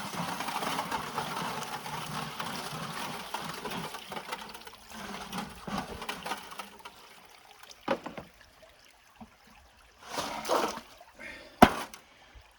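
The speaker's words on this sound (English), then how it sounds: "keep rinsing it out, slowly adding water, nice gentle rocking motion" Water sloshes and trickles as material is rinsed in a rocker box at Nugget Lake, with gentle rocking, uneven wet washing sounds up close, fading to sparse splashes and clunks.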